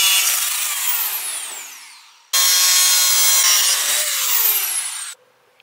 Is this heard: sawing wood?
yes